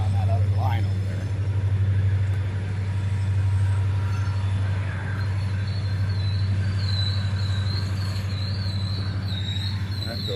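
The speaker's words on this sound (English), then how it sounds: "That's the rest of the train he's hauling." Susquehanna engine 3018 hauling grain cars in Binghamton, a steady loud low diesel drone with rumbling cars and faint high wheel squeal later, continuous throughout.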